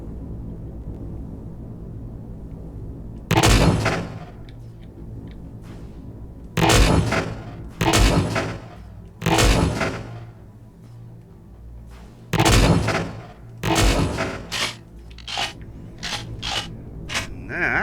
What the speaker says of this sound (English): that's with all their guns firing at us